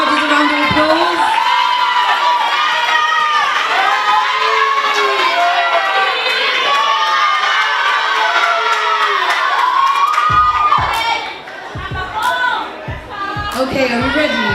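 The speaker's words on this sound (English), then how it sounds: "Can we give the judges a round of applause?" Pageant audience at Miss Glamour 2019 cheering and whooping for the judges, a loud sustained crowd roar with children's shrill shouts that thins out toward the end, leaving scattered voices and a few claps.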